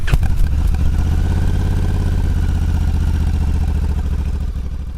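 A Honda CRF1100L Africa Twin motorcycle engine runs loud and close at a steady, throbbing idle, with a brief rev at the start and mechanical clatter throughout.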